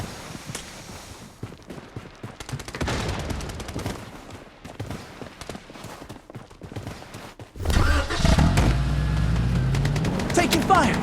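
Gunfire in the shooter game Blood Strike, rapid bursts of automatic fire crackling at varying distances with louder heavy blasts near the end over a busy game soundscape.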